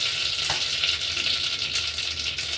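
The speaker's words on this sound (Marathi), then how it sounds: "मोहरी घालते ते कुकर गरम आहे जिरं घातलं आहे" Mustard seeds and cumin crackle in hot oil in a pressure cooker, making a dense, close sizzle with quick spitting pops, alone without talk.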